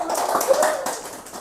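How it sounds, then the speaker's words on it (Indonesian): A short burst of hand clapping from a small group in a podcast studio, brief and moderately loud, mixed with speech. "Luar biasa, tepuk tangan dong."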